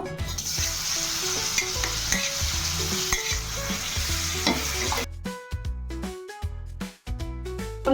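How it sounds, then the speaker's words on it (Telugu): Banana pieces cut into rounds fry in ghee in a pan, giving a steady sizzle with scraping stirs for the first five seconds before broken, tonal clatters take over. "దీంట్లో అట్టికాయ ఫ్రై చేసుకుంటున్నాను"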